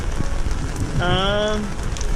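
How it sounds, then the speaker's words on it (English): Steady rain falls outdoors along a trail during a South Dakota bike race, a continuous broadband patter filling the clip, with a brief voiced harmonic sound midway over it. "can you hear that it's raining out?"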